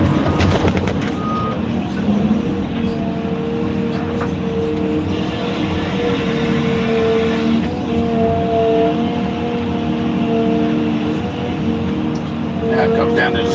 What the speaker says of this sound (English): The truck driver keeps getting too close to me.